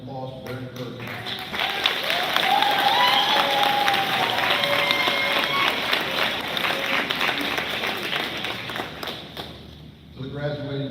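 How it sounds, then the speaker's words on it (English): A graduating class applauds its family and friends at a graduation ceremony. The clapping is loud and sustained for about ten seconds, with some cheering and voices mixed in, and it fades at the end as a speaker resumes talking. "Class 2404, give your family and friends a round of applause for their encouragement"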